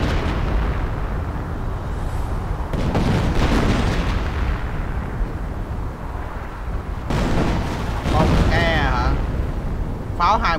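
A 25-pounder artillery piece fires repeatedly in the Company of Heroes Opposing Fronts video game, heavy booms and rumbling blasts over continuous battle noise, with someone talking over them.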